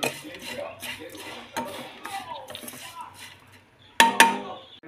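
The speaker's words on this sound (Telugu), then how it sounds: "వేసేసి బాగా కలుపుకుందాం." A spoon stirs tempering into bitter gourd pieces in a pan, with soft scraping and a couple of sharp metallic clinks near the end. A voice talks over the first part.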